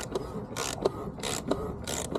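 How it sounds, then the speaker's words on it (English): A wrench turns the oil filter housing on a 2020 BMW 320d during an oil and filter change, giving a few quiet, evenly spaced ratcheting clicks with faint mechanical creaks between them, with no talking. "Tighten back up with a wrench"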